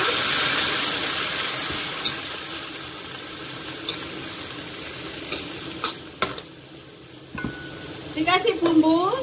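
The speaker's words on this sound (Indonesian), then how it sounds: "Kalau udangnya dimasukkan bersama bawang merahnya sampai menguning ya." Shrimp and shallots stir-fry in a hot pan with a steady sizzle, while a utensil scrapes and clatters now and then. A few brief knocks occur toward the end.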